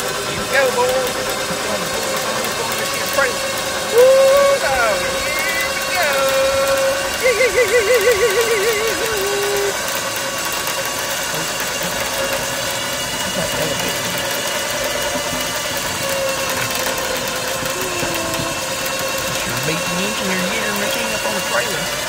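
A Harbor Freight wireless remote winch pulls a Cadillac Escalade onto a trailer, its motor whining in short rising bursts over a steady idling engine, while people talk throughout.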